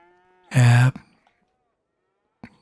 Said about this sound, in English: Yeah, we have our Vosges cows there.